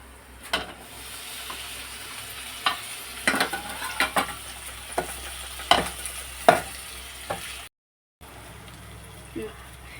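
Tomato, onion and ginger garlic paste sauté in a pan for a chicken curry, with soft sizzling and frying under scattered stirring clatters and scrapes from a utensil, fairly close and moderately loud.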